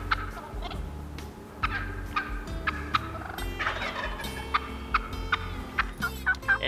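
Several wild turkeys gobble in bursts, some near and some farther off, their rattling calls overlapping in a loose back-and-forth over a low background rumble, with no talking.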